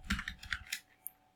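Computer keyboard keys clatter in a short burst of about five quick, close taps, then a single sharper click, as someone types an address into a web browser.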